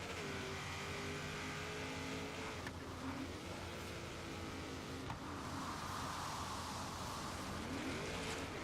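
A '69 drag-built Camaro drives in the racing game Forza Horizon 3, its engine a continuous close drone that rises and falls in pitch through several gear changes, with no talk.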